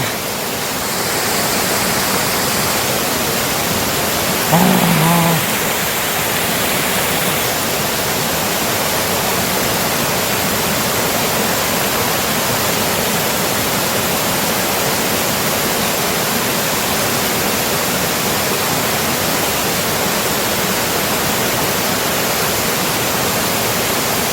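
Leopard Falls (Pyobeom Falls), a waterfall deep in a valley near Cheorwon, roars as a loud, constant broadband rush of falling water that holds unbroken throughout.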